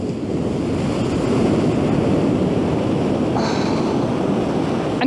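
Ocean waves roll onto a beach lined with groynes under a dark, stormy sky, a steady loud wash of surf with wind buffeting the microphone and no speech.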